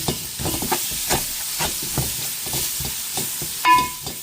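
Homemade, extremely spicy chicken curry fries in oil in a pan, giving a steady close sizzle with rhythmic scraping stirs roughly every half second and a brief louder hiss near the end.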